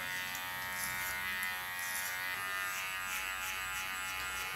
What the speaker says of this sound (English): Put the clipper in a combing position.